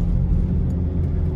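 Interior cabin drone of a Jeep Grand Cherokee WJ 2.7 diesel on a rough road, a steady low engine and road rumble held at constant level throughout with no voices.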